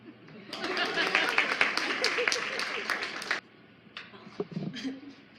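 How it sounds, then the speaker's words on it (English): Audience clapping at a 2017 candidate forum, a burst of loud, dense applause that cuts off sharply, followed by scattered claps with murmuring and voices. "Clap now."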